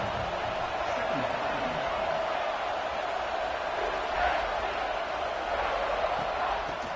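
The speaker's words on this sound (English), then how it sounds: "This crowd bringing the energy and noise early." A broad, steady roar of a stadium crowd in the video game College Football 26 fills the air, with a commentator-like voice talking over it throughout.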